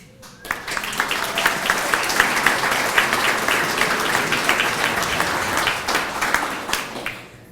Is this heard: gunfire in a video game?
no